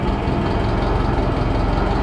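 A Super 44 tractor engine runs steadily at close range, a low rhythmic chugging idle with a faint knock and no talk over it.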